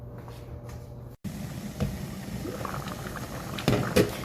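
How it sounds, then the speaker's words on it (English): Red beans boiling in water in a pot, a steady bubbling simmer with faint pops and a brief dropout near the start, moderately quiet and without voices. "so now we see here that it's at a boil. It's been boiling now for about 30 minutes."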